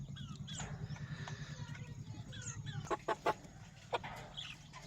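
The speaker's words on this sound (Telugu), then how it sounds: "16 పిల్లలు, 10 పుంజులు 6 పెట్టలు ఫ్రెండ్స్" Hens, roosters and young chicks of an Eastern native breed cluck steadily close by, a dense run of low clucking joined by a few sharper calls near the end.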